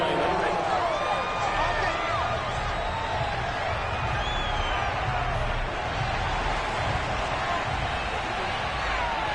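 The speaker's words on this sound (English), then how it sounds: "Plenty of shouts from this crowd as they watch the replay." Dense crowd noise fills a football stadium as fans shout and murmur throughout while watching a replay, a steady roar with scattered louder calls and no clear individual voices.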